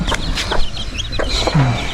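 Close, loud chicken clucks and chirps from several birds overlap in a short burst, with small chicks peeping in the background.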